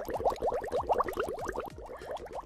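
Cotton swabs soaked with spray deodorant and dropped into water give a steady run of rapid fizzing, bubbling pops, close and fairly quiet, with no voices.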